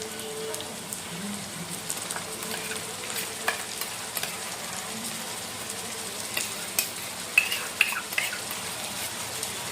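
Onion paste made from two blended onions frying in a pan for chicken masala, giving a steady, low crackling sizzle with occasional soft scrapes of stirring, fairly quiet and continuous with no voices.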